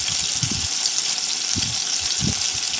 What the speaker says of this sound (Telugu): ఇప్పుడు ఇందులోనే పొడుగ్గా కోసుకుని ఉల్లిపాయ ముక్కలు వేసుకోవాలి.